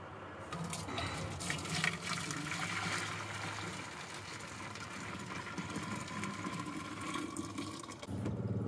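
Cold water poured from a full kettle into a container in a camper van, a steady broadband splashing and trickling stream running continuously for several seconds, close and moderately loud, with no talking.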